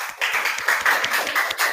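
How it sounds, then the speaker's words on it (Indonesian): Students in a classroom clap for a fellow student group during a teacher's lesson, giving a short burst of fairly quick, slightly uneven hand claps that sound close and moderately loud. "Tepuk tangan untuk kelompok 2."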